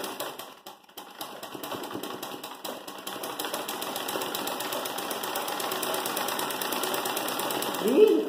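A sewing machine stitching a Turkish-style embroidery pattern runs in a steady, fast mechanical patter close by, continuous throughout with a brief pause near the start.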